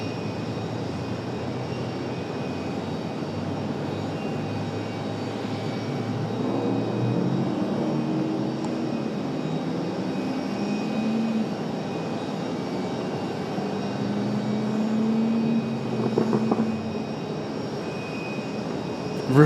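A brand new airliner arriving at RDU airport on an afternoon, its engines a steady broad roar that swells gently as it nears, with no one talking.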